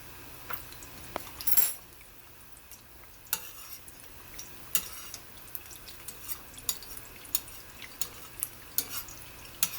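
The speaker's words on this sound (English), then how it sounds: "And then I'm going to throw some of the hot oil over it." An egg fries in a pan for huevos rancheros while hot oil is spooned over its top, giving a steady soft sizzle broken by scattered clinks and scrapes of a utensil against the pan.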